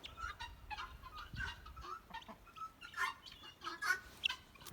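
Female guinea fowl calling at a house in Manalapan, New Jersey, giving a run of fairly faint, irregular clucking and chattering calls outdoors with no talk.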